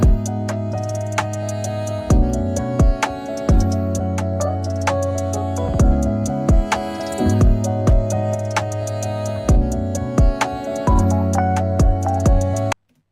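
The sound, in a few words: mix with drum loop through parallel bus compressor plugin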